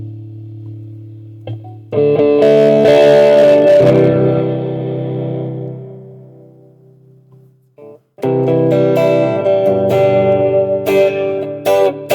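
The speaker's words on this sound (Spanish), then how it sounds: "Voy a poner el overdrive." Distorted electric guitar through overdrive on a Joyo Jam Buddy III guitar amplifier: loud, gritty chords strummed and left ringing, then fading, followed by another burst of driven playing, with no voices.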